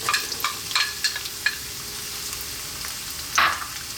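Garlic and onion frying in olive oil for a spinach tomato pasta sauce, a continuous close crackling sizzle with occasional louder pops and stirring scrapes, no talking.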